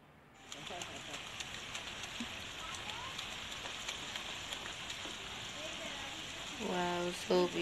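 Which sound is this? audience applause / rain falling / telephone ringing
rain falling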